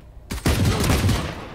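A single heavy sniper rifle shot in the tactical shooter VALORANT cracks out of near silence, followed by a loud, dense burst of impact and echo that fills the short moment.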